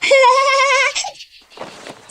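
A goat gives a single loud, wavering bleat close by, followed by faint rustling.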